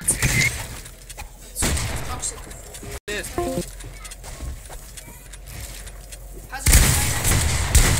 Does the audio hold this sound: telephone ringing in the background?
no